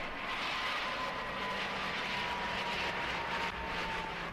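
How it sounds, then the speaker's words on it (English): An Airbus A320 airliner passing low and slow over Habsheim airfield in France, a steady loud engine roar with a faint whine, no voices. "As the A320 crossed the Habsheim airfield, its speed dropped to only 112 knots."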